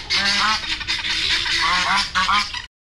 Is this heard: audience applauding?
no